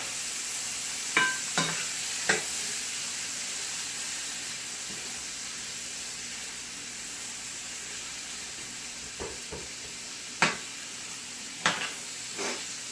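A whole small-to-medium onion sweats in a pan with a soft, steady sizzling hiss, broken by a few sharp clinks and scrapes of stirring, quiet and close with no talking.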